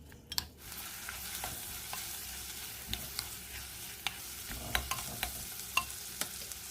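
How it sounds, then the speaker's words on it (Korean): Garlic and onion stir-frying in cooking oil and perilla oil, a steady sizzle with frequent sharp clicks of a utensil scraping and tapping the pan. "식용유 한 큰술, 들기름 두 큰술을 넣고 마늘과 양파를 넣고 볶아주겠습니다"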